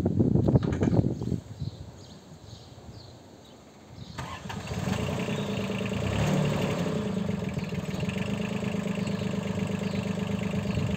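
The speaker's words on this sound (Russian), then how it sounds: "Сейчас запустим двигатель." A Komatsu PC12UU mini excavator engine cranks and fires after a few seconds of quieter mechanical noise, then settles into a steady, loud diesel idle close by.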